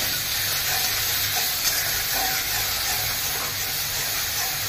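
Cumin-ginger paste fries in a pan for shukto, a dense, even sizzle close up with faint scraping of stirring and no voices.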